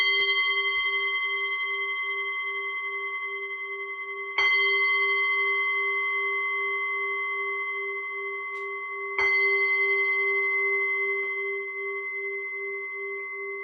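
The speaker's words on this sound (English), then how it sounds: "Let me just sound the bell." A meditation bell is struck three times in a quiet room, each clear ringing strike fading slowly with a long sustained tone before the next, evenly spaced about five seconds apart.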